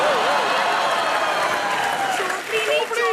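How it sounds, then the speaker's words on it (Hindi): Studio audience applauding for actress Parineeti Chopra on a comedy talk show, dense continuous clapping with crowd noise throughout, with a voice speaking over it near the end. "जोरदार तालियां परिणीति चोपड़ी के लिए।"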